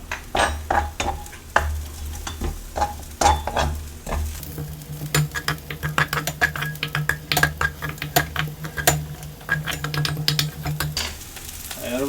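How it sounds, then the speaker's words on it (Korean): Chopped scallions frying in a generous pour of oil for egg fried rice, a bright sizzle broken by repeated sharp scrapes and taps of a utensil on the pan, close and continuous without talk. "파 양이 많으니까 기름을 좀 넉넉히 부어줄게요."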